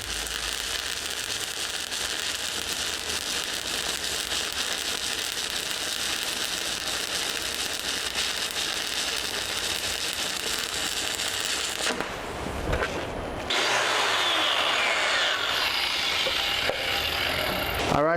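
Stick welding with a 7018 rod on a horizontal overlay: a steady, close crackling sizzle that runs almost unbroken, briefly cutting out near the end before resuming at a similar level.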